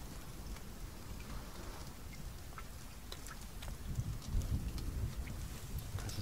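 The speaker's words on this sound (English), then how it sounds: "There's a storm coming in." Steady rain with a rumble of thunder in The Forest, a survival video game, forming a dense, continuous downpour whose low rumble swells toward the end, with no talk.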